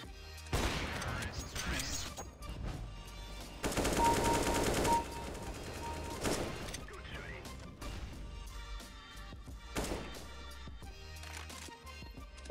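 Gunfire in the Counter-Strike: Global Offensive video game, bursts of rapid automatic shots and single loud cracks spread across the clip, with a dense sustained volley in the middle and game sounds between.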